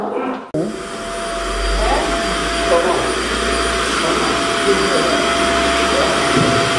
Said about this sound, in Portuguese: tem um aspirador ligado aqui